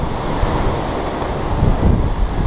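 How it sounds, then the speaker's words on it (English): Wind gusting across the outside deck of the Carnival Miracle cruise ship at sea, a loud, buffeting roar against the microphone mixed with the wash of ocean waves, swelling stronger toward the end. "Now it's pretty windy today"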